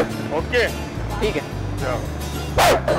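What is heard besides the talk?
dog barking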